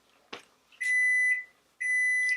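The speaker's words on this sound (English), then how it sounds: "And there's my timer." A kitchen timer goes off while chicken noodle soup boils on the stove, sounding a short click and then two loud, sustained electronic beeps with a brief gap between them, close and clear with no talking.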